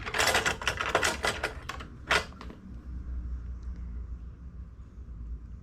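A domestic knitting machine carriage slides across the needle bed, a fast burst of dense clattering clicks and creaks for about two seconds, then a quieter mechanical rumble continuing close by.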